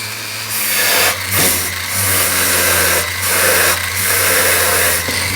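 A small polishing motor spins a bristle or white nylon brush against a silver claw setting, giving a steady whirring hum that rises and dips in repeated bursts as the brush is pressed to the metal.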